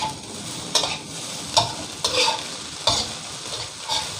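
Rice and instant noodles being stir-fried in a hot pan, a steady sizzle broken by regular scraping strokes of a spatula, close and fairly loud, no voices.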